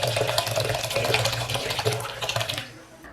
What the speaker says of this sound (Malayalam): ഇതൊരു ബൗളിലേക്ക് ഇട്ടതിന് ശേഷം നമുക്കിതൊന്ന് കുതിർക്കാൻ വേണ്ടിയിട്ട് വെള്ളം ഒഴിച്ച് വെക്കാം